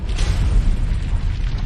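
A deep, rumbling explosion effect for a planet's basalt crust blasting apart on Venus roars as a continuous loud low boom with a hissy wash above it, steady throughout the short burst, no voices.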